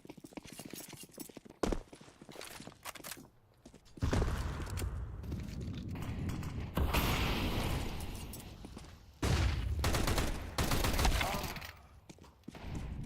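In a Counter-Strike match, a Galil rifle fires in bursts amid clattering shots, footsteps and mechanical clicks. Quiet passages alternate with louder stretches of gunfire, under an esports commentator's voice.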